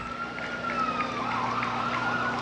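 A fire department vehicle siren wails steadily in a Memorial Day parade in Royal Oak, Michigan, a sustained rising and falling tone over low engine rumble, fairly loud and unbroken.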